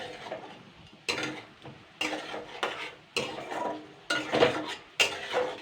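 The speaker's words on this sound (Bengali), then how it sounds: "জাস্ট 2 মিনিট হালকা নাড়াচাড়া করতে হবে কিন্তু" Fish eggs stirred gently in a pot on a gas stove: a series of distinct spoon scrapes and clinks against the metal, roughly one stroke per second, close and fairly soft with faint sizzle between.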